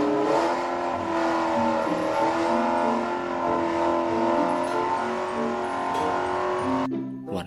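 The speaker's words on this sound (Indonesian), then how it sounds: "kalau yang ini namanya mobil sport" Red toy sports car with a steady, loud engine revving tone held for several seconds, then cutting off abruptly near the end.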